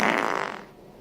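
A short fart, loud at the start and trailing off over about a second, heard alone with no talk.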